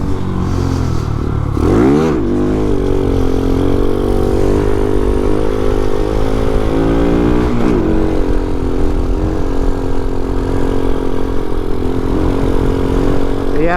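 A Vader 125 motorcycle engine, a Grom clone, roars steadily up close while the rider holds a wheelie, with its pitch sweeping up and down in two sharp throttle blips.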